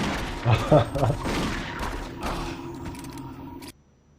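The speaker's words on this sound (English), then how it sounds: "And now another guy's shooting at me" Enemy gunfire in the video game Doom 3 BFG, a rapid burst of several close, punchy shots followed by lingering mechanical rumble and a sudden cutoff into quiet.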